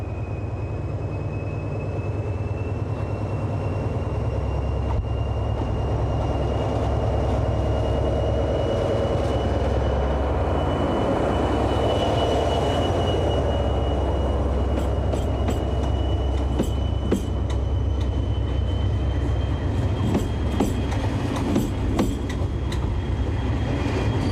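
Steady rumbling of trains passing through Langres station, France, with a constant high whine and intermittent metallic clicks and squeals, continuous and fairly loud throughout, no voices.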